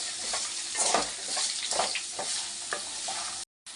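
A beetroot stir-fry with salt is stirred in a hot pan, with loud steady sizzling and repeated scraping strokes of the spoon, close up and uninterrupted apart from a brief cut near the end.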